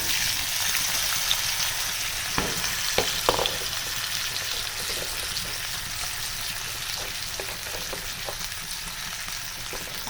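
Potato chips frying in a pan of hot oil with a tempering of asafoetida and turmeric, giving a steady, close sizzle throughout with a few sharp crackles and clinks of stirring, no voices.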